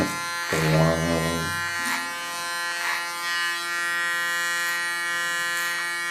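An electric hair clipper hums steadily and close while cleaning the contour line of a bob haircut, its buzz changing briefly as it meets the hair, with no talk.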